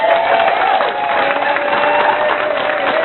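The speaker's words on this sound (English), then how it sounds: "I want to hear one more huge round of applause for the Omni Center energy that we have in this room tonight" A banquet crowd at a peace and justice center gives a big round of applause, loud sustained clapping mixed with cheering and voices, heard through a muffled, band-limited recording.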